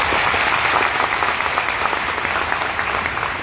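An audience at a Pehchan event in Vadodara claps loudly, dense sustained applause from a crowd that stays strong and even throughout, with no talking over it.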